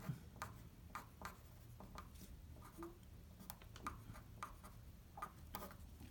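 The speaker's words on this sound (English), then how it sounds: "let me just write out the formula real quick" A formula is written out by hand during a traffic-flow lesson on peak hour factor, heard as faint, irregular scratchy strokes and taps that come and go over a steady room hum, with no talking.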